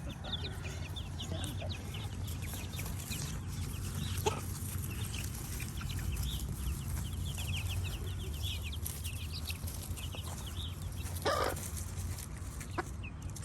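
Chickens and roosters clucking and calling from several directions in a farmyard flock, with scattered short squawks and a steady low outdoor hum underneath, fairly close throughout.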